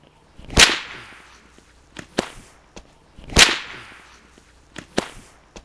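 A whip cracks against a metal can, two sharp loud snaps each followed by smaller clattering hits and faint rattles, close up with no speech.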